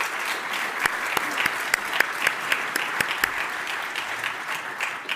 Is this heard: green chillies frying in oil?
no